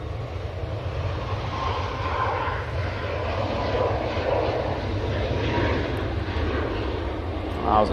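TUI airliner taking off and rotating from the runway at Manchester on a breezy day, a loud, steady engine roar sustained throughout with wind noise, under faint talk.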